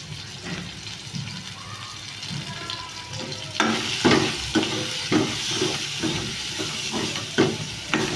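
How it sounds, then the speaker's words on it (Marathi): Spices such as coriander-cumin powder, turmeric and red chilli sautéing in a hot pan, with a soft sizzle and rhythmic stirring scrapes and taps that grow stronger in the second half, close-up. "बघा मस्त असं परतून घेतलं मी."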